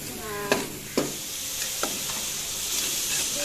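Ginger and garlic frying in a pan, a steady sizzle and hiss with a few sharp scrapes of a stirring spoon in the first two seconds, close up.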